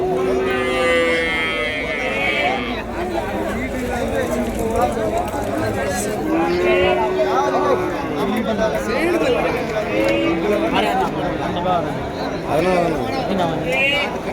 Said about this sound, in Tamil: நாட்டு கண்ணுக்குட்டிங்க நல்லா தரமான கண்ணுக்குட்டிங்க எல்லாமே கொண்டு வந்திருக்காரு